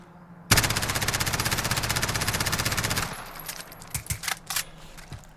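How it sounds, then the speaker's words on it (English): An MP9 machine pistol in Call of Duty Modern Warfare fires one long, loud, rapid burst of about two and a half seconds, followed by a few scattered clinks of falling shell casings and quieter mechanical clicks. "All shots are on target for a machine pistol"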